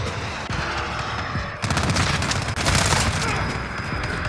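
Rapid MP5 submachine gun fire in Modern Warfare, dense bursts of close automatic shots that swell into a sustained loud fusillade, with faint voices underneath.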